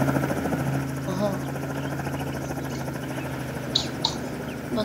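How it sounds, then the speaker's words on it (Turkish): A helicopter flying in the Roblox game Mad City gives a steady rotor drone and engine hum, with a few short chirps over it while people talk across the whole stretch. "Helikopter sürmeyi biliyor musun?"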